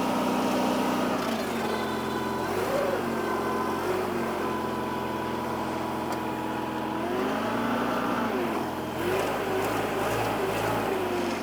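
A cheap $400 forklift engine runs continuously close by, a steady droning idle with slight shifts in pitch as it revs a little.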